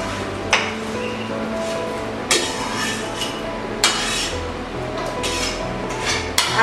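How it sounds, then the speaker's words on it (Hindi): Wheat flour roasting in ghee in a pan, heard as steady close scraping and stirring with sharp metallic clinks of a spoon against the pan every second or so. "अब मैं इसमें आटा भून रही हूँ।"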